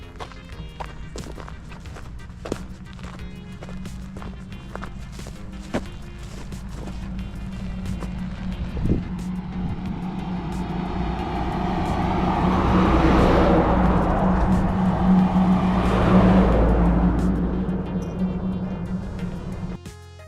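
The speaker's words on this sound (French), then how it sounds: "Il y a énormément de camions." Trucks pass along a busy road during a walk from Strasbourg toward the Vosges. Steady footsteps crunch up close while a vehicle roar swells from afar, peaks loud around the middle, and recedes.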